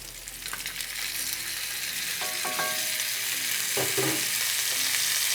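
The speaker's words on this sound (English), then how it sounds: "we're just going to kind of stir it all together and let these cook up" Minced onion, garlic and paprika sizzle steadily in a pan for a steak and potato hash, with a few sharp scraping stirs partway through, close and fairly loud with no talk.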